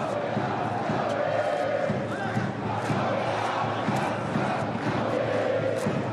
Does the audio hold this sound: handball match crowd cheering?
yes